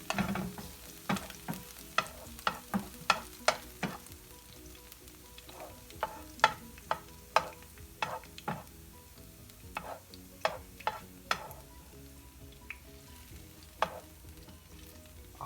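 Mackerel frying in oil in a pan gives off a quiet, steady sizzle broken by many sharp, irregular pops and crackles spread over about fifteen seconds, with no talking.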